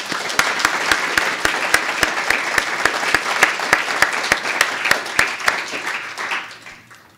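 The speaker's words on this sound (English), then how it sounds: "Can we give them a round of applause?" Sustained audience applause for university innovation finalists at a Pepperdine event, a dense wash of many hands with loud sharp claps standing out in a steady rhythm, fading toward the end.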